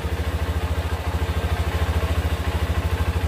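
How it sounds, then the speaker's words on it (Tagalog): A Honda CRF motorcycle engine idles while warming up, with a steady, rapid, thumping putter and light mechanical clatter, close and fairly loud with no talk. "pinapainit lang po natin yung makina para medyo kondisyon"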